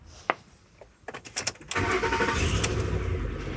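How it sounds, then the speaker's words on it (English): A car engine cranks and catches, then settles into a steady, loud idle after a few clicks and thumps, as the running car is started to jump-start a dead car. "So first we'll start the running car first to give the juice over to the dead car"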